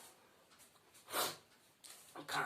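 A couple of short, dry coughs, fairly close, the loudest in the middle and another at the end, with quiet breathing in between.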